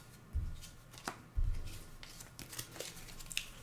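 Onirim cards slapped and slid off the top of a deck on a tabletop, close by: two soft thumps and then a run of light papery flicks and rustles as several cards are drawn.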